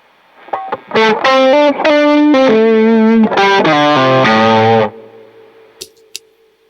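Electric guitar through a Klon overdrive pedal set as a lead boost, not fully saturated: a run of distinct picked notes and sustained chords with a mild crunchy edge, ringing out and then cutting to near silence.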